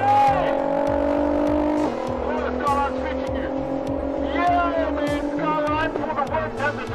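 Drag strip launch of a Nissan GT-R and a Skyline, with steady engine drone and rising revs running throughout under people talking nearby.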